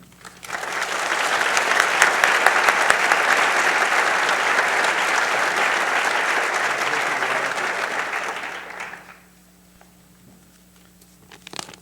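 A lecture audience gives sustained applause lasting about nine seconds, building quickly, holding steady and then fading into a quiet room.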